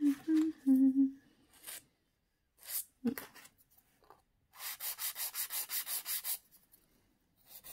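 A 180 grit file rubbing over an acrylic gel nail, heard as short scratchy strokes and then a fast run of about ten even, rhythmic close-up passes, with brief pauses between bursts.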